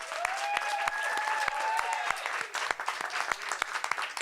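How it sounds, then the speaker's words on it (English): Audience applause for a city councilwoman at a Philadelphia bill-signing event, a patter of distinct claps over a soft crowd bed, with a faint tonal whistle or ring early on, fairly quiet and fading unevenly toward the end. "Let's have another round of applause for Councilwoman"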